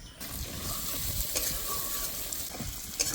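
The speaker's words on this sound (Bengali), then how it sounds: "আলু আর পটল ভালো করে কষে নিয়েছি" Potatoes and pointed gourd sauté in a pan with a steady, moderate sizzle, broken by a few scraping stirs.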